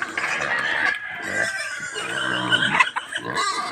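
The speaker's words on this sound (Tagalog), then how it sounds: "Kasi may maraming manok na gustong kakain din." Chickens cluck and squawk close by while piglets feed among them, with occasional pig grunts mixed into the busy, continuous barnyard noise.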